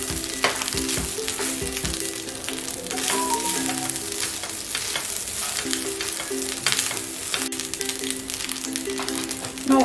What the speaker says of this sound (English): So now we have to stir continuously because we have put it in a high flame.